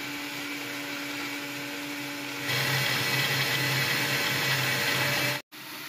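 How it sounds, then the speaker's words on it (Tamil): A mixer grinder's juicer jar motor whirs steadily as it blends a milkshake of dates and nuts, running loud and continuous for a few seconds before cutting off abruptly. "இப்போ நம்ம மிக்சியை ஆன் பண்ணிடலாம்"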